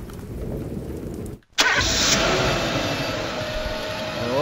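A car engine in the video game Silent Hill: The Town, made in Dreams on PS4, cranks and catches after a brief silence, then settles into a loud, steady running drone close by.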